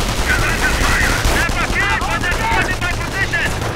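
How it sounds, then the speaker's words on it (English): Sustained battle fire in Company of Heroes on the Stonewall map, with dense overlapping machine-gun and rifle bursts crackling without pause across the whole stretch at high, steady loudness. "The Allies are firing on the bank."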